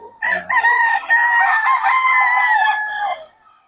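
A bullstag gamecock crows once in a long, loud, drawn-out call close by, rising sharply then holding before trailing off into quiet.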